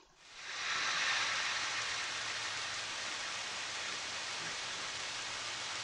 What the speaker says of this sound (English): Sound effects of rain.